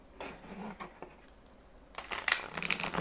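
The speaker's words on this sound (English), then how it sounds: "One more shuffling, and then we can cut it." A deck of oracle cards being shuffled by hand, soft papery riffles and slides close by, with a louder burst of crisp card flutter near the end; no talking.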